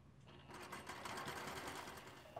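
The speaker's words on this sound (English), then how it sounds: "When you're sewing, basically you're edge stitching the under collar and not touching the upper collar." A sewing machine runs steadily, edge stitching the under collar of a shirt, a close, fast, continuous mechanical whirr with rapid needle rhythm from start to end.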